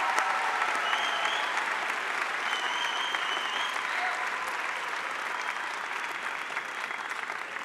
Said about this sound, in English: Please join me in applauding our Master of Arts in Education graduates.